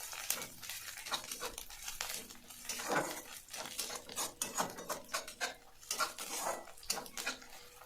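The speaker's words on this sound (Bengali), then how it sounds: "নিয়ে এর মধ্যে আমি ভালো করে আরও নাড়াচাড়া করে নিলাম।" A spoon scrapes and clinks in a pan while spiced katla fish curry is stirred, giving steady rhythmic scraping with sizzle-like texture, close up and continuous.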